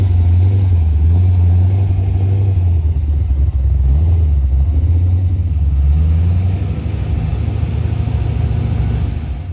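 A Mazda RX-7 FD engine running on a dyno, a loud, close, sustained low rotary drone that holds steady and rises slightly without pause, with no voices.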